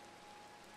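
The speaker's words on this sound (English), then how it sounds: "It's raining." Steady rainfall in the Minecraft video game, an even broadband hiss of falling drops that holds at one level without pause, soft and fairly faint, with no one speaking.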